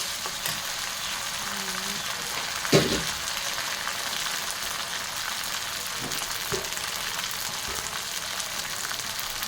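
Ground cumin, ginger, garlic and coriander paste with dry spices frying in a pan for a goat meat dish, a steady soft sizzle throughout with a few light stirring knocks.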